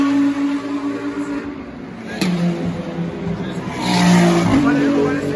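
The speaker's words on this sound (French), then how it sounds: "là on va devoir écouter parce que les voitures sont en tête." GT race cars at the 24 Hours of Spa passing by, engines rising and falling in a steady roar with a louder close pass near the end, heard under ongoing talk.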